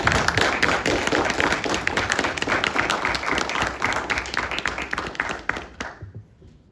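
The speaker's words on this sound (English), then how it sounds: "Round of applause." An audience applauds with dense, sustained clapping from many hands for several seconds before it quickly tapers off to silence.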